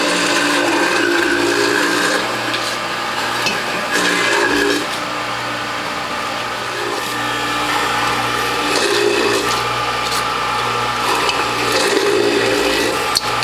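A juicer with a front-loading feed tube grinding turmeric and ginger, a steady loud mechanical whirring and grinding hum that runs continuously with slight variations in load.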